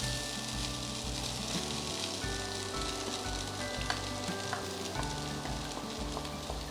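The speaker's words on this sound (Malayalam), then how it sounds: "ഇനി ഇതിലേക്ക് നമ്മളുടെ ചിക്കൻ പൊടിച്ച് വെച്ചത് ചേർക്കാണ്" Minced chicken for Kerala-style chicken cutlets sautéed in a pan, a dense steady sizzle beneath droning, tonal background hum, close and continuous with no talking.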